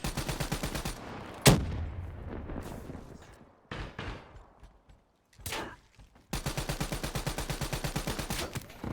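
Video game gunfire in a shooter opens and closes with fast, loud machine-gun bursts of evenly spaced shots, broken in the middle by a few single heavy blasts and quieter gaps.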